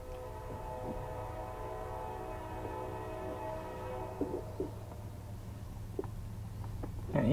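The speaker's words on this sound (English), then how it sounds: "Here comes this other train." A train blasts through a snowy grade crossing, its horn holding a long, loud, steady chord for several seconds before fading under the rumble of rolling cars, with a few sharper clanks near the end.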